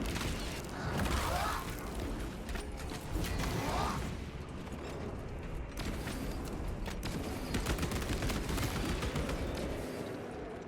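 Auto bolt rifle fire from a Techmarine loadout in a Space Marine game, a continuous rapid stream of loud shots mixed with mechanical clanks and whirs, sustained across the whole stretch.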